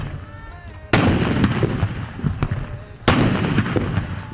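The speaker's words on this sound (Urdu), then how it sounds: "اسلام آباد میں دن کا آغاز 31 جبکہ صوبائی دارالحکومتوں میں 21 توپوں کی سلامی سے ہوا" Ceremonial cannons fire a 21-gun salute in a Pakistani provincial capital, with two heavy booms a couple of seconds apart, each rolling into a long rumbling echo.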